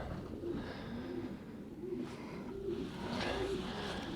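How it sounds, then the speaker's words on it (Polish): A pure Janssen-line pigeon coos softly in repeated low, throaty phrases against a faint, steady background hum. "przekapitalny gołąb to jest czystej linii Jansen"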